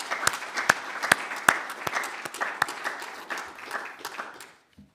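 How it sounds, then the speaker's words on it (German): Applause from an audience honoring participants at a district office event in Wunsiedel, Fichtelgebirge: a steady wash of clapping with sharper individual claps standing out, fading out at the end. "Und jetzt einen kräftigen Applaus für alle Teilnehmerinnen."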